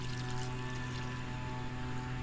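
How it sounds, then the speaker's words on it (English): Water pouring steadily out of a Chevy K5 Blazer in a continuous close splash, with a low mechanical hum underneath. "That's why I'm okay dumping it here, because it's just water."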